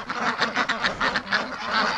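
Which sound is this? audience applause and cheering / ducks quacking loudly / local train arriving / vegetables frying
ducks quacking loudly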